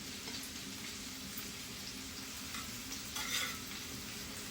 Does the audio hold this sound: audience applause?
no